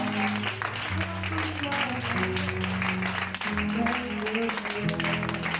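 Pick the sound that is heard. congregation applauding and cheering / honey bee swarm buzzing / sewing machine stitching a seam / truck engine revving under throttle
congregation applauding and cheering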